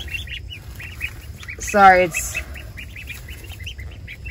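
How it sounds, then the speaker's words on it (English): Ducklings and a turkey poult in an outdoor brooder give a run of soft, repeated high peeps, while a louder squawk briefly rises near the middle and a person speaks a few words. "one of our ducks hatched out 3 ducklings and a turkey"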